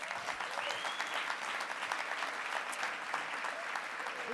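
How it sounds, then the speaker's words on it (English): An audience at a conference gives a round of applause, a sustained, moderately distant wash of many hands clapping with a faint murmur beneath it. "Give Kristen a round of applause."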